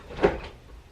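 A kitchen drawer or cupboard is opened in a home kitchen while someone searches for a can opener, giving one short, close wooden knock and slide that fades quickly into room quiet.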